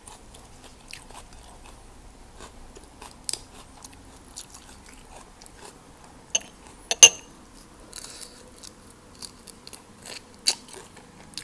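Crunchy shrimp heads from miang kung are bitten and chewed close up, giving sharp irregular crackling crunches over a quiet background, loudest near the middle, with no talking.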